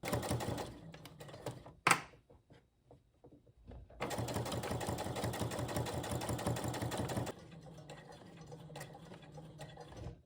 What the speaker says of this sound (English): you're going to sew about 1/2 inch on both sides and make sure to backstitch when you start and when you stop